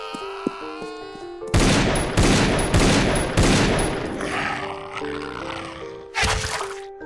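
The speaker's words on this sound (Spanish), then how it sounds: "el aturdido ruido de los disparos" A rapid volley of loud gunshots cracks out in quick succession, then fades into echoing rumble before one more burst erupts near the end.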